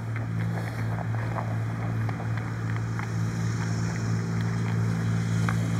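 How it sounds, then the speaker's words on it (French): A tractor passes near a river where someone is fishing, a steady low engine rumble with a constant hum running throughout, loud and close under wind noise, with no talk. "juste au moment où le tracteur passe, on va attendre"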